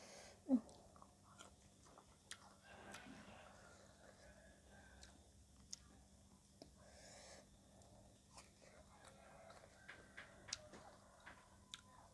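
Someone eats green mango with sweet fish sauce, making quiet, close crunching and biting bursts with scattered soft clicks and wet chewing over a faint background hum.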